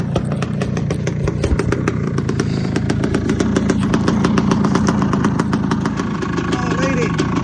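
A 1954 Triumph Speed Twin motorcycle engine runs close up with an even, rapid thumping beat, a steady idle-like rhythm that holds throughout at moderate loudness.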